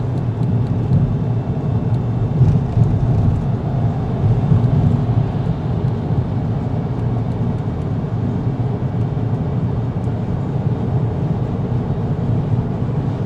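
Steady, loud engine and road drone inside a car with a 1.4 TSI petrol engine accelerating toward 130 km/h, a continuous low rumble with no breaks and no talking.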